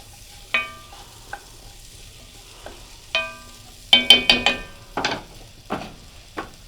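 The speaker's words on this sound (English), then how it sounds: "Not sure if you can hear the sizzle." Lentil soup sizzles in a pot with black pepper while a utensil clinks and scrapes against it in a few sharp, irregular knocks, fairly close.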